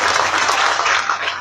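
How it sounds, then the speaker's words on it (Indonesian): A brief burst of audience applause at a public talk, loud and dense clapping from a crowd filling the short moment without any speech over it. "Oke, tepuk tangan untuk beliau."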